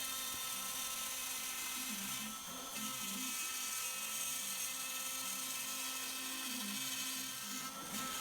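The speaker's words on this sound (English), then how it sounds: "Once the CNC machine finishes cutting the circle, then it's going to move and go over and start cutting the outside of this project." A CNC router carves a circle into wood while making a right-angle squaring jig, producing a steady high spindle whine over a low rumbling cutting drone that rises and dips in repeating cycles, unbroken and without speech.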